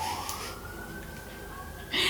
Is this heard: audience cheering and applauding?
no